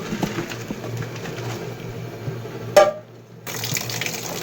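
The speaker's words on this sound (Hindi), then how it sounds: "अब हम इनका पानी निकाल देंगे।" Cooking water pours off boiled bitter gourds in a kitchen, a steady close splashing stream that breaks off with a brief clatter and quiet gap before the flow resumes.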